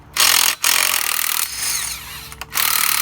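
Power tool loosening bolts on a cover of a 2004 Toyota Tundra engine during a timing belt job, loud close whirring bursts separated by brief pauses, short stop-and-start runs with no talk.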